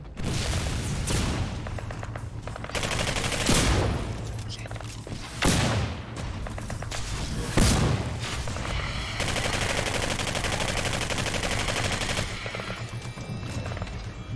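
Gunfire and a grenade blast in the shooter Singularity: dense rapid shots and bursts of automatic fire, punctuated by several heavy booming impacts, loud and close throughout.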